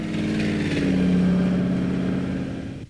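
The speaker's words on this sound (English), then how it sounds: "How'd you like to get behind the wheel of this 1923 Ford Roadmaster with its powerhouse 454 Chevy engine?" A 1923 Ford Roadmaster street rod with a 454 Chevy engine idles close by, a steady low rumble that swells slightly mid-way before easing off and cutting out.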